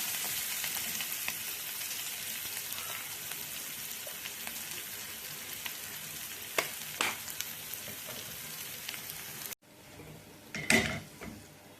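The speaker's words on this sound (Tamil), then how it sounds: "கொஞ்சம் லைட்டாக மஞ்சள் பொடி போட்டுக்கலாம் அப்படியே வதங்கிடுது பாதி வதங்கிடுது" Onions or aromatics sauté with a little turmeric powder in a pan, a quiet steady sizzle with occasional scraping stir clicks, briefly interrupted near the end by louder spoon-on-pan clatter.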